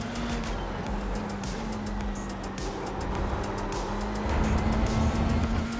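A Dallara Formula 3 race car engine in the iRacing sim drones steadily at constant revs, loud and close, with a slight rise in intensity toward the end and no talking.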